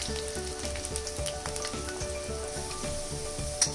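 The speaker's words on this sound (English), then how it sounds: "Fry the potatoes until they turn reddish brown in color." Potato pieces fry in hot ghee, giving a continuous close sizzle with fine popping crackles and no voices.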